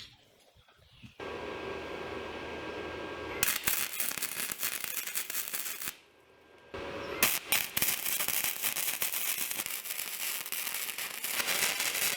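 Flux-core welder laying heavier weld beads on a steel patio chair seat, a loud steady crackling sizzle in long bursts with a brief pause midway, close up and alone.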